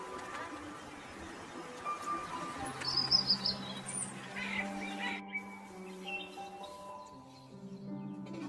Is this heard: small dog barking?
no